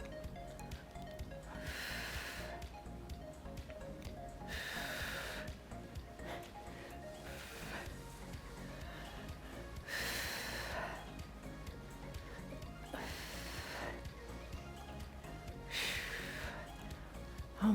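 Slow, deliberate breaths during a seated senior dumbbell workout, with about six soft airy breaths spaced a few seconds apart over quiet background music.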